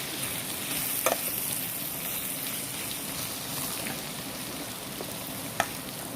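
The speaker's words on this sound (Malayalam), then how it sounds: "ഓക്കെ, കരിയാതിരിക്കാൻ ഇളക്കി കൊടുക്കാം." Coriander powder frying in a pan for chicken curry, a steady close sizzle with soft stirring scrapes and a few brief sharp taps of the spoon on the pan.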